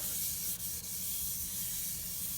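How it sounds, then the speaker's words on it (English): Finish oil is rubbed by hand into the wooden surface of a turned Viking-style bowl, a steady soft friction hiss that runs continuously at close range with two faint brief dips, no voices. "I'm going to keep rubbing this stuff into the wood"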